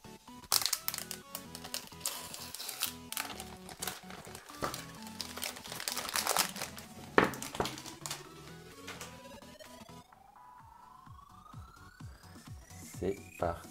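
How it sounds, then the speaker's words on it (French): An iPhone XS Max box is unboxed by pulling its tear tab, giving close, irregular crinkling and tearing of packaging with sharp bursts, then a quieter stretch with a rising tone, while someone talks. "Et la petite linguette pour procéder au déballage."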